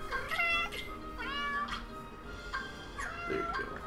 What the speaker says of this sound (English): This cat. Get away from the mic.